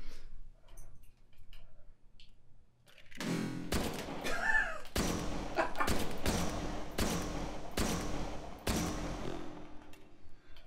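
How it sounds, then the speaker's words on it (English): A gun dropped in the VR game Hot Dogs Horseshoes & Hand Grenades clatters and knocks, then a series of loud, evenly spaced sharp bangs follows, close and dominating. "I've dropped the gun."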